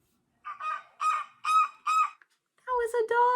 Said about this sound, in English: That was a duck quacking.